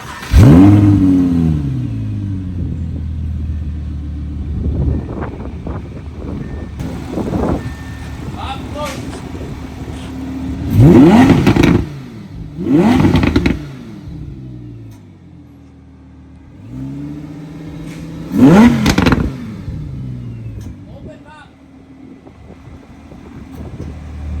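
An Audi R8 V10 on its stock exhaust revs repeatedly, with sharp throttle blips rising and falling in several loud bursts separated by idle, heard up close with some talk in the background.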